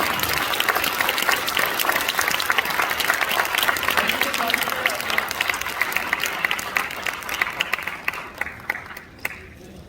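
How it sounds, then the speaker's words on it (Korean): Sustained applause from an audience in a large church auditorium in Seoul, welcoming a speaker at a pastor's inauguration thanksgiving service. The clapping is dense and steady throughout, with a voice heard over it, and it fades near the end. "큰 박수로 맞아주시기 바랍니다."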